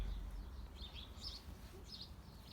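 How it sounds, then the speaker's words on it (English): Sparrows cheep faintly in the background while waiting to be fed, a few short bright chirps scattered over a quiet low ambient rumble. "Can you hear them cheeping in the background? Sparrows waiting for their breakfast."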